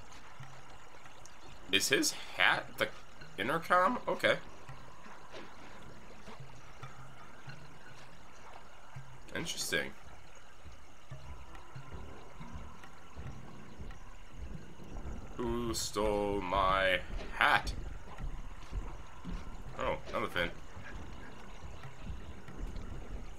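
A waterfall rushes steadily behind the temple in Sly 2 Band of Thieves, a constant wash of water noise running under a voice talking and scattered game sounds.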